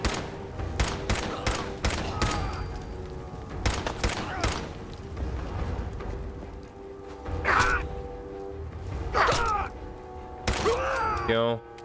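Pipe pistol gunfire in Fallout 4, a series of sharp single shots in irregular bursts, loud and close, with game ambience and occasional creature groans between volleys.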